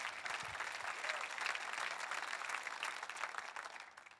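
A church congregation applauds together at a morning service, a faint, steady wash of many hands clapping throughout with a few voices beneath.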